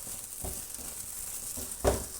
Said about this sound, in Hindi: ये 1 चम्मच मैं इसमें मक्खन डालूँगी